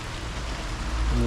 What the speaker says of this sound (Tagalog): Tapos ngayon, grabe ng ulan.